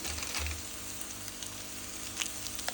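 Sautéed onions sizzling in a pan as Maggi masala is added, a soft, faint, continuous fry with a few light scrapes and ticks near the end.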